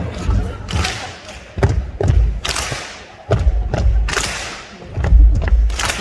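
Seated concert audience stomping and thumping for an encore, a repeated pattern of heavy low thuds in an irregular rhythm over about six seconds, with crowd noise between the beats.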